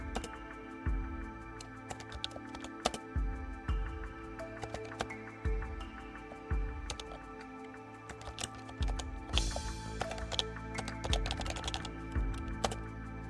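Computer keyboard typing while defining a game character data type in PostgreSQL, a close run of quick irregular clicks in short bursts with brief pauses, fairly quiet and with no voice.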